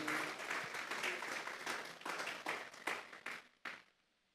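A church congregation at a Sunday service applauding together, a steady wash of clapping that thins out into a few scattered claps before fading to quiet.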